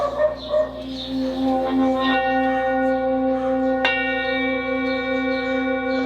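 A metal singing bowl rings out with a sustained shimmering tone, struck with a stick again midway so the bright overtones swell and hum on; a soft thud at the start. Recorded in Bhaktapur, Nepal.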